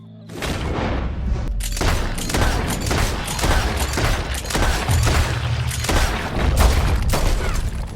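Loud, rapid volleys of gunfire echo in Red Dead Redemption 2 as several shots crack and boom in dense succession with rumbling low end, filling the whole stretch with barely a pause.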